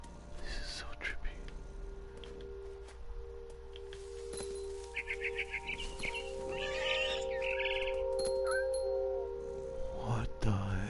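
Soft twittering chirps of a barn swallow in What Remains of Edith Finch come in short clusters midway, faint beneath a hushed whispering voice and a steady low drone.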